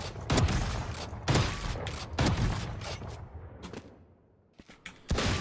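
Bucky shotgun blasts in Valorant, several heavy booming shots fired at a steady pace of about one per second, each with a short rumbling decay, loud and close with no talking.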